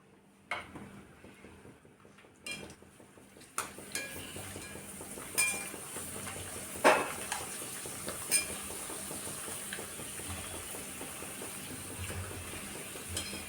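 Fried poha chakli being lifted out of hot oil, with a steady, soft sizzle of frying underneath a few faint metal clinks and scrapes of a strainer against the pan.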